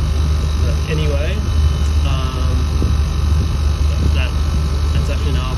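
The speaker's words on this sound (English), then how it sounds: "that's actually an R407 compressor" R407 air conditioner compressor running with a steady, loud low hum throughout, with faint scattered clanks and a voice talking in the background over the drone.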